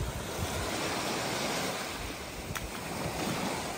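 Steady surf of sea waves washing onto a beach fills the whole stretch with broad, continuous wash, with wind buffeting the microphone throughout and no voices.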